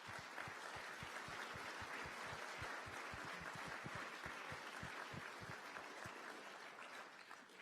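A crowd at a lacrosse award ceremony gives a sustained round of applause for past honorees, broad continuous clapping with a few sharper nearby claps, holding steady before easing off slightly at the close.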